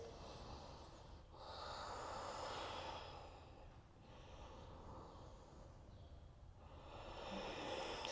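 Slow, smooth breathing during an Ashtanga yoga practice, long drawn inhales and exhales swelling and fading in a steady rhythm, close and soft with no talk.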